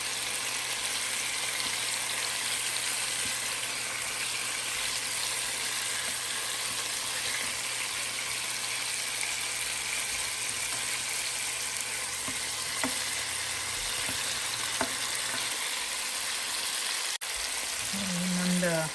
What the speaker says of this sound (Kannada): ಇನ್ನೊಂದು 6-7 ನಿಮಿಷ ಇನ್ನೊಂದು ಸೈಡ್ ಫ್ರೈ ಆಗಲಿ.